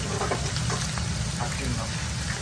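Thai fried rice is stir-fried with peas, tomato and sliced carrot, giving a steady sizzle and scraping under a voice talking nearby.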